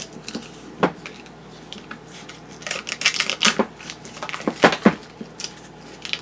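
A food bag being cut open with a knife during turkey meal prep, heard as a string of sharp crinkling snips and plastic rustles, louder toward the end, with no talk.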